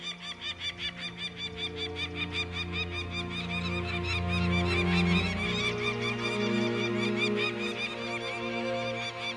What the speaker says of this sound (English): That screeching you can hear is the young chicks demanding to